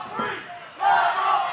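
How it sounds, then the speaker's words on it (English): A wrestling arena crowd in the Hotpoint Davis Arena roars and cheers, a loud dense swell that dips briefly and then surges again, with no one speaking over it. "The crowd coming alive here at the Hotpoint Davis Arena"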